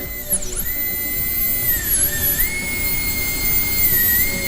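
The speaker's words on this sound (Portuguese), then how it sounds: "utilizando a broca 3118, vamos criar o sulco marginal cervical simulando a situação clínica" A dental drill running bur 3118 to cut a cervical margin groove into a mannequin tooth for a partial metal-ceramic crown: a loud, continuous high-pitched whine with brief dips and swoops in pitch as the bur meets the tooth.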